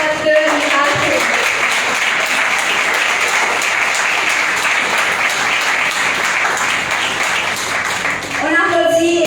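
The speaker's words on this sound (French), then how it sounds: "On applaudit probablement une dernière fois pour ce matin aux équipes de Rival Promo." A crowd at an award ceremony for young role models keeps up sustained, loud applause for several seconds, with a voice speaking briefly at the start and again as the clapping fades.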